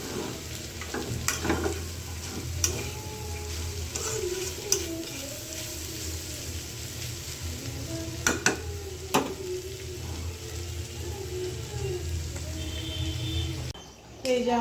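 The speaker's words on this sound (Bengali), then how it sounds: "আর এদিকে এই যে আমার ভাজিও প্রায় হয়ে গেছে, ভাজিটা আমি লাল লাল করে নেব।" Vegetable bhaji sizzling in a pan: a steady frying hiss with occasional sharp scrapes and clinks of stirring, while a voice talks over the cooking.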